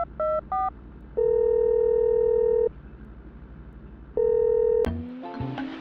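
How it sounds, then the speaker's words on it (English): Push-button phone dialing: a few short DTMF key beeps, then two long steady dial-type tones separated by a pause, followed by a brief crackle and faint background noise, clear and close with no talking. "I'm gonna make a phone call"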